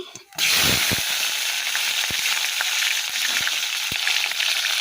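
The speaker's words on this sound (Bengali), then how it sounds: "জিরা ফোড়ন দিয়ে নিয়েছি।" Cumin seeds hit hot oil for tempering with a sudden loud sizzle that settles into a steady crackling hiss, punctuated by a few sharp clinks of a utensil.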